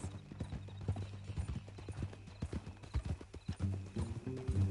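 Horse hooves clip-clop in Red Dead Redemption 2, a close, steady uneven rhythm of hoof strikes with a brief snort or whinny near the end.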